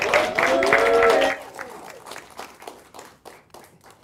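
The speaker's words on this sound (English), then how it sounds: "one more round of applause for our school-related employee of the year" A burst of audience applause with some cheering at a school employee awards ceremony, fading out after about a second into scattered claps and a few voices.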